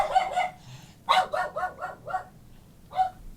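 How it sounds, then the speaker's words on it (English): A small dog barks sharply in short bursts, a pair of yips, then a quick run of four or five barks, a pause and one last bark, loud and close with no talking. "there goes my attack dog"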